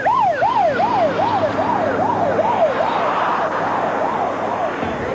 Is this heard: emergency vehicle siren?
yes